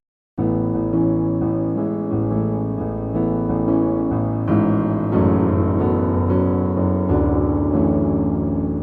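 Solo piano plays the melody and chords of a song, starting after a brief silence and continuing steadily and clearly throughout.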